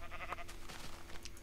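Sheep bleating in Minecraft, a few short wavering bleats repeated close by over game background sound.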